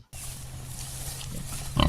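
Farm pigs grunt steadily at close range, with a louder burst of squealing near the end and no talk over them.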